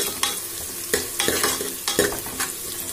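Onions with ginger-garlic masala sauté in a pan for a chicken curry: a soft sizzle runs underneath while a spoon scrapes and stirs in an uneven rhythm of close, sharp strokes, with no voices.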